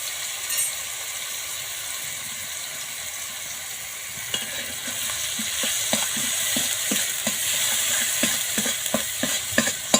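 Ground spices with salt, chili powder and turmeric fry and sizzle in oil, with a steady crackle throughout; from midway, rhythmic spatula scrapes and clinks join in at a regular pace.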